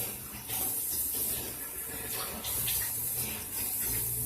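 Tap water runs steadily into a sink while a face is rinsed, a continuous close splashing flow with small shifts as hands move through the stream.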